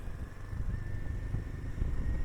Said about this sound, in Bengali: শুধু নিজের বাইকের সাউন্ড আর প্রকৃতির শব্দ